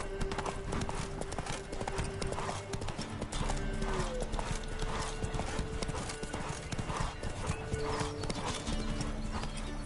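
Horse galloping in The Witcher 3 video game, a rapid rhythmic clip-clop of hooves throughout with a neigh, close and steady over game ambience.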